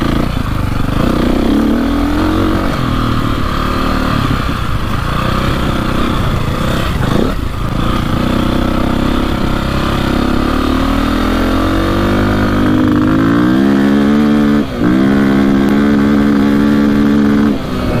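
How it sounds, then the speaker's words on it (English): A KTM 450 dirt bike engine revs repeatedly, climbing in pitch and bouncing off the rev limiter with choppy stuttering near the top, loud and close, with a hard cut near the end. "See how it hits the rev limiter?"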